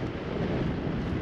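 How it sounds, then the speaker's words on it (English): Strong wind in the Simpson Desert beside salt pans and salt lakes, a steady, loud broadband roar buffeting the microphone throughout, with no voices. "Very windy out here,"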